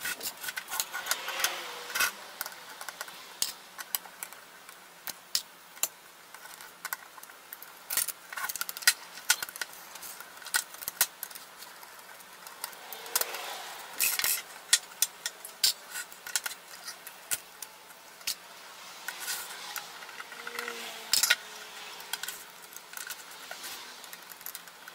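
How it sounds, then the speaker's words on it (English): Screws are unscrewed to take apart the case of a 12V SMPS power supply, a close, faint series of irregular clicks, scrapes and small metallic ticks spread over about twenty-five seconds. "Now unscrewing secured screws to disassemble the case to get the circuit board inside."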